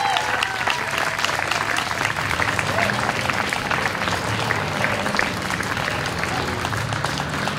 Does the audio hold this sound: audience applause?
yes